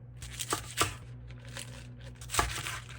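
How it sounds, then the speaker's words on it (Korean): Mushrooms sliced thin and long with a kitchen knife on a cutting board, a few crisp cuts separated by pauses, close up with a low hum behind and no talking. "버섯 얇게 그리고 길게 썰어줍니다"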